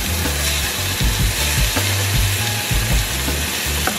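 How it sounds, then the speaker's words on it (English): Onions and carrots sautéing in a hot pan, a continuous close sizzle broken by scraping and knocking as the vegetables are stirred. "now we're going to saute our vegetables"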